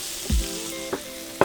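Shrimp sautéing in olive oil in a pan for a Cajun-spiced jambalaya, giving a steady close sizzle with a few short clatters of stirring, no talk.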